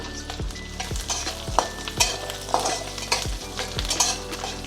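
Fifty cut garlic cloves fry in a pan for garlic rice, a continuous close sizzle broken by repeated scraping strokes of a spatula at a regular rhythm, with no talking.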